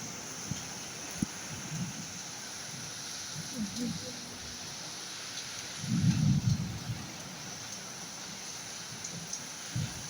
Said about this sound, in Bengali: তো বৃষ্টিটা এখন কিছুটা কমেছে